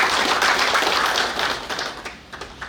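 Applause from an audience at a Nigerian naval warfare college graduation ceremony, a dense wash of clapping that is loud at first and then thins and fades toward the end.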